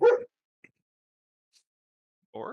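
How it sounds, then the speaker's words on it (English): A dog gives two short, close barks or yips spaced a couple of seconds apart, with quiet in between. "That is a dog, not the cat."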